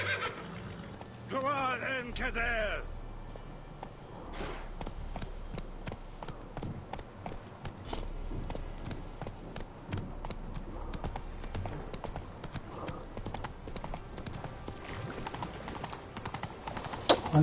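Roach, a horse in the video game Witcher 3, trots with steady clip-clop hoofbeats that run throughout, after a loud neigh near the start; game ambience sits underneath.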